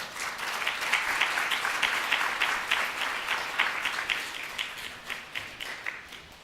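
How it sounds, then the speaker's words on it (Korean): A church congregation at an evening worship service claps steadily to welcome the pastor, a sustained, even round of applause with no one talking over it. "우리 목사님 나오실 때 박수로 환영해 주시기 바랍니다"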